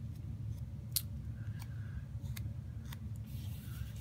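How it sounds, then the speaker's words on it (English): Scissors snip through a planner sticker sheet in a quiet room, several short, sharp cuts spaced irregularly along a line, close and fairly soft. "So I'm just going to go ahead and cut this one right down the line."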